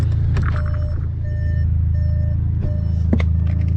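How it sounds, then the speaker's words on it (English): An Audi car runs with a steady low engine rumble and hum throughout, joined by repeated electronic beeping tones that sound like a chime or reversing alert, close up with no one talking. "If you can hear me over the car"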